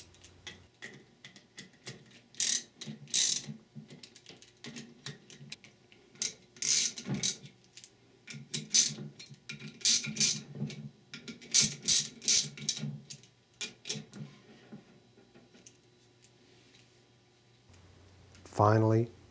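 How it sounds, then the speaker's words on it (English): Ratchet with a 10mm socket snugging the bolts on a Ford E4OD / 4R100 transmission, producing bursts of rapid clicking in irregular runs, close and crisp, with a voice speaking at the very end. "Lightly snug the bolts with a 10mm socket and ratchet."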